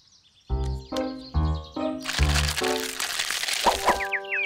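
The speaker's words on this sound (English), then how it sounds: "It was the sound of the baby birds coming out of their eggs." Baby birds hatching from eggs in a nest up in a tree, in a cartoon, heard as several bursts of crisp eggshell cracking and crunching. High chirps follow near the end.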